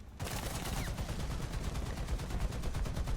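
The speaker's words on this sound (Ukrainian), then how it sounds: "А от і мій зенітний Браунінг згодився." An anti-aircraft Browning machine gun fires in the War Thunder video game, a continuous rapid burst of loud shots rattling without pause for several seconds.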